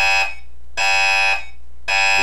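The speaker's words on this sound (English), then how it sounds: "we activate the fire alarm." A harsh electronic alarm tone from a security keypad's fire alarm sounds in three loud, evenly spaced bursts, each about half a second, with short silences between.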